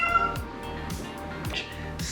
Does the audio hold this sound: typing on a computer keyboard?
no